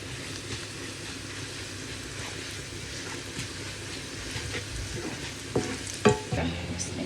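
Spices tempering in hot oil with Kashmiri chili powder for a potato dal give a steady crackling sizzle, with stirring clatter and a few sharper spoon knocks near the end.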